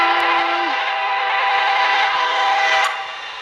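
A train in a zombie video game rumbles past on its tracks, a steady loud roar with a brief high whistle tone at the start, fading slightly near the end.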